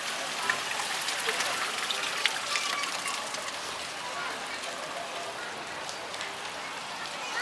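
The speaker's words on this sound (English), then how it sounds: "we're holding out for the rain to go away. It just slowed down." Steady rain falling at a market in Borneo, a dense, even hiss of drops on surfaces with occasional louder splashes, continuous and fairly close throughout.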